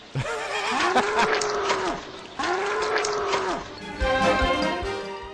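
A bull moos three times in a row, each call loud, close and drawn out for over a second, with short pauses between them.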